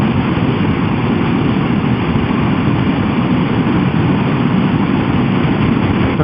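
A motorcycle engine runs through its exhaust with a loud, steady, close rumble that holds an even drone from start to finish and has no voices over it.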